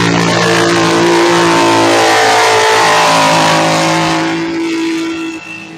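A Can-Am off-road racing vehicle's engine roars close and loud with a steady high rev and strong harmonic whine, holding for several seconds before easing off slightly at the end; no talking.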